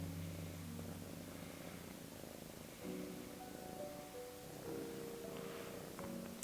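A cat purrs steadily and close while being petted, a continuous low rumbling purr with slight swells, heard alone in a quiet room.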